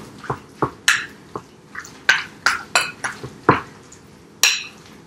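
Chicken pot pie filling is stirred in a bowl, with a utensil knocking and clinking against the sides in a steady, close, repeated rhythm and no talking.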